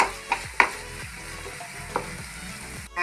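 A cornflour slurry is stirred into a sizzling egg roast, with a steady close fry hiss under a spoon scraping the pan and a few sharp knocks, no talking.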